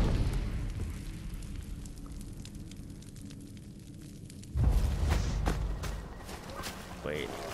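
Fire bombs in Far Cry Primal burst with a sudden heavy boom followed by a roaring, crackling blaze, preceded by a low rumbling stretch, with someone talking over it.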